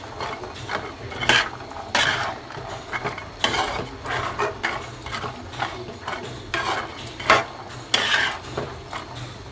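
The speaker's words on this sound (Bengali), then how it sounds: "একটু মিশিয়ে নিচ্ছি।" Beans and dried fish being stirred in a pan, repeated scraping strokes of a spoon against the metal in an uneven rhythm over a low background hiss.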